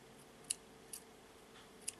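Scissors snip thread for cowrie shell jewelry, three faint, quick crisp cuts at close range against a quiet background.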